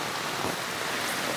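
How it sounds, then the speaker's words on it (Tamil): Heavy rain pours down during a flood in a steady, dense roar, loud and close and without a break. "பாருங்க எப்படி போயிட்டு இருக்கா மழை."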